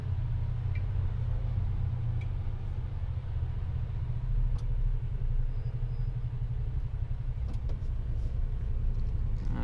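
A lorry engine rumbles steadily at close range while reversing, a deep continuous drone with no voices over it.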